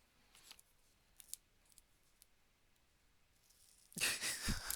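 Scissors snip into Christmas craft card with a few faint, sparse cuts, then a louder run of close, crisp cutting as the card is sliced through.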